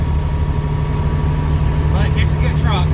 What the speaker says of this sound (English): I know this truck's loud,